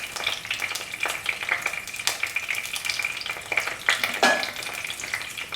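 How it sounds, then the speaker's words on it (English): Mustard seeds fry in hot oil in a pan, a close, continuous crackle with scattered sharp pops and a few clinks of a utensil. "Once the mustard seeds have popped,"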